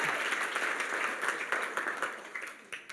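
A church congregation applauding during a Sunday service, steady close clapping with scattered individual claps standing out, fading slightly toward the end.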